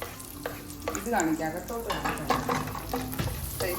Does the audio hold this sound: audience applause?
no